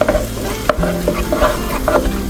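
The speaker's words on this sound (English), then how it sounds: "Dump it right into the pot here and give it a good mix with the other ingredients." Creamed sweet corn gets stirred into a pot of homemade corn soup, a spoon scraping and knocking in quick irregular strokes over a low bubbling sizzle, close and fairly loud with no voices.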